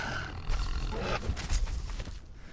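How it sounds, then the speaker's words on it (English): A wolf in the survival video game Conan Exiles growls and snarls at close range in two or three rough, throaty bursts over a low game background. "that was just a wolf that got me close"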